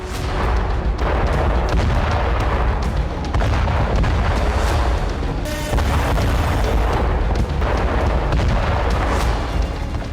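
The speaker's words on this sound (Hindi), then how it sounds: "ईरान की गैस पाइपलाइन पर कुछ इस तरह से विस्फोट हुआ।" An Iranian gas pipeline explosion: a sustained, loud roaring blast with deep rumbling and crackling bursts, continuing without pause like a large fire-fed explosion.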